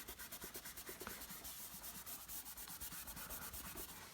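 An eraser rubs back and forth over a pencil landscape sketch in quick, regular strokes, close and quiet, with a soft papery scrubbing that repeats evenly throughout.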